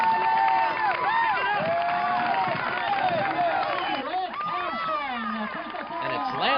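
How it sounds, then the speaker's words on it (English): Spectators at the finish of the 1989 Coca-Cola National Championship Sprint Triathlon cheer, whoop and shout continuously and loudly as an athlete runs in, with dense crowd noise and a few higher yells throughout. "the crowd is rooting him on as he heads in for the 1989 championship"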